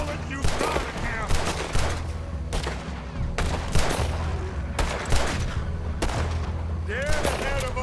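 Rapid gunfire from a Red Dead Redemption 2 shootout: repeated loud volleys and single shots crack in bursts throughout, over a low rumbling game soundtrack, with a voice briefly calling out.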